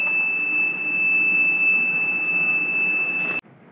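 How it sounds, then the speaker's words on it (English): A waste-bin buzzer in an automatic waste management system sounds as a steady, loud electronic tone. It holds continuously for about three and a half seconds, then cuts off abruptly. "Now buzzer will sound if any of the dustbin will be full."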